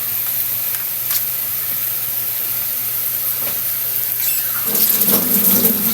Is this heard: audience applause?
no